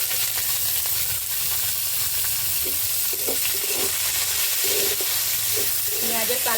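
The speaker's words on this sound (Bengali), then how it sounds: "দিয়ে এবার এর মধ্যে দিয়ে দেব কুচিয়ে রাখা পেঁয়াজ।" Chopped onion goes into a pan of hot oil with whole cinnamon, cumin seeds and sugar, frying with a steady, close sizzle and hiss, while occasional stirring clinks and faint background voices sit underneath.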